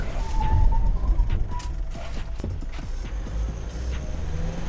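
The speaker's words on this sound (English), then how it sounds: "So we're just gonna go 60, then brake." A 2021 Nissan Navara PRO4X 4x4 automatic pickup accelerates to 60 then brakes hard, heard from inside as a steady engine and road rumble with mechanical clunks and a brief brake squeal, with low talking.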